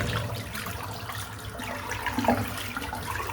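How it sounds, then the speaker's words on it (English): Warm water runs from a tap into a bathroom sink being refilled, a soft steady trickle and splash heard faintly and alone. "I'm going to fill the sink up again with some warm water"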